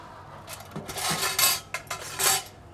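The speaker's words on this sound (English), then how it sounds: "We like to scoop it up the side of the bowl here." Spoon scraping and scooping thick beetroot hummus up the inside of a serving bowl, a few close soft scrapes and clinks in quick succession, with no talking.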